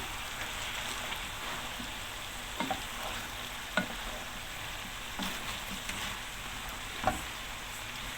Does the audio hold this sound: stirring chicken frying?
yes